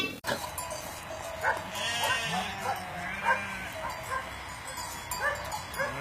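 Sheep bleat repeatedly on a farm, several short calls spread across the stretch, with animal noise and background activity around them and no talk.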